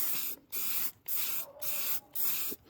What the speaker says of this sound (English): I need to go get more spray paint. This can's almost out.